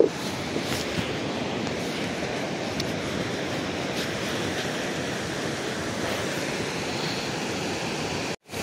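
Aysgarth Falls roars as a loud, steady rush of falling water, close and continuous, with no voices, until it cuts off abruptly at the end.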